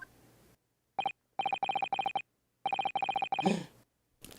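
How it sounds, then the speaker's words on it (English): A phone notification chimes in several quick bursts of bright repeated tones, fairly quiet and alone, followed by a short breathy noise. "I heard a notification sound."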